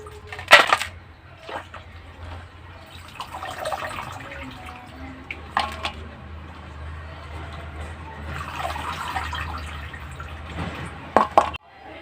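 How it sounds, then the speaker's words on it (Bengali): Chopped spinach is washed in water, with intermittent splashes, drips and sloshing at close range interspersed with quieter stretches. "আর আমি এখন পালং শাকগুলো জলের মধ্যে ধুয়ে একটা"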